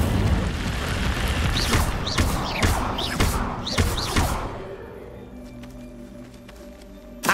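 Repeated whooshing fire bursts from the Incendio spell in the video game Hogwarts Legacy, a string of loud flaring blasts with thumping low rumble, fading into quieter ambient tones toward the end.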